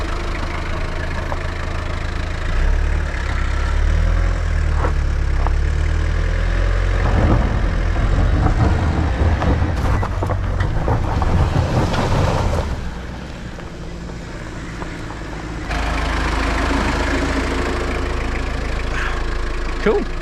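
A Suzuki Grand Vitara in 4-low labours up a steep off-road hill, its engine droning loud and low throughout with rising revs and wind buffeting the microphone, dipping briefly near the end.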